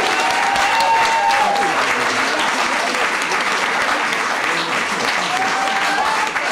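A packed audience at a gathering breaks into sustained applause and cheering, a dense, loud wash of clapping that holds steady for several seconds.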